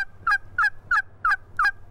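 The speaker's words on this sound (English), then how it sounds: "we've got birds in the distance along a fence line" Wild turkeys gobble from a distance along a fence line on a hunting morning, five repeated rattling calls at an even rhythm over a low background hum.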